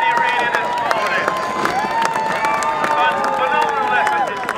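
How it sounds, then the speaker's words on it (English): A crowd cheers, claps and whoops as contestants enter the arena at the Pagham pram race in Bognor Regis, a continuous loud outdoor roar with whistles and shouts throughout. "Give them a cheer as they come into the arena."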